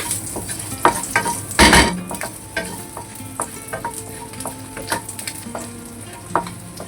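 Garlic frying in a hot clay pot, steady close sizzle broken by sharp scraping and clinking stirs, including one loud burst of hiss early on; no talking.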